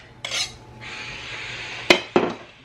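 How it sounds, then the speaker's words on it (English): Wet ingredients stirred into baking batter, heard as a soft swishing scrape followed by two sharp clinks of a utensil against the bowl, close and alone. "Give it another quick little stir."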